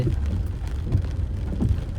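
Steady monsoon rain falling over a town market street in early morning, a dense constant patter with a low rumbling wash underneath, no voices.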